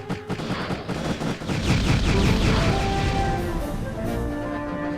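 Kinetic weapons in Transcendence space combat fire as a dense, rapid barrage of cracking shots, loud and continuous, layered with whooshing tones and synth hum.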